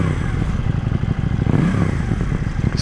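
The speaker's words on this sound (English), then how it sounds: "I do like the sound of this bike" A KTM Duke 790 motorcycle engine runs loud and close, a rough throbbing rumble that swells briefly as the revs climb midway.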